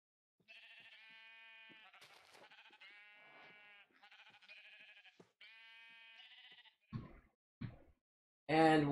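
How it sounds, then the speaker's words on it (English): Repeated sheep bleats in a blocky survival video game, a run of clear, close, tonal baas one after another, followed by a few short thuds and a sharper burst at the end, with no speech. "there are sheep right here, so we can kill these sheep for wool"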